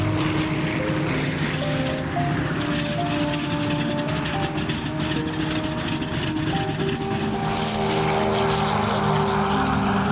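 Propeller aircraft engine drones steadily and loudly throughout, a restored D-Day lead plane in flight, heard close as from aboard with continuous rumble and no talk.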